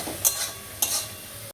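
Marinated chicken being stirred and mixed in a hot pan, two distinct scraping strokes against the metal over a low continuous sizzle, close and fairly loud, with no talking.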